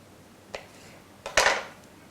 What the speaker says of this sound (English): with the help of knife, cut this into about 1/2 inch pieces like so